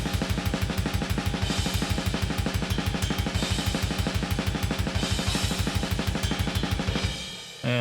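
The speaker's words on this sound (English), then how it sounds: "So the drums on their own sound like this." Drum kit isolated from a black metal song in a natural-sounding mix, with fast, steady, relentless kick drum and cymbal wash throughout, loud and alone before cutting off near the end.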